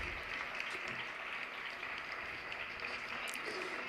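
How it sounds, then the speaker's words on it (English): Steady audience applause fills a hall after a sports and social-inclusion talk, a dense, even wash of many hands clapping with no pauses and nobody talking over it. "Big applause for them."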